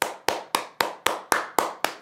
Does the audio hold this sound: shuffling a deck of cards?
no